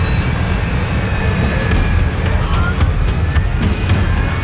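Jet airliner engines spooling back up after flying through volcanic ash in bad weather, a steady loud roar with broadband rush and faint high whine tones, continuous throughout.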